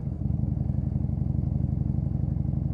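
A 2014 model motorbike being ridden, its engine giving a steady, loud, rhythmic low thrum with fast regular pulses throughout and no talk.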